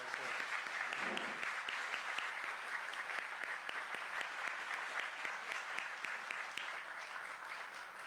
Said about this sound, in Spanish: un aplauso por favor por el autor